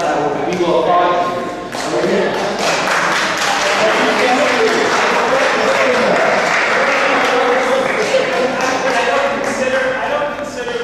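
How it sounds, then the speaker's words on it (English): An audience at a New York Q&A session breaks into loud, sustained applause and cheering that fills the room for about ten seconds, with voices mixed into the clapping. "We will applaud you."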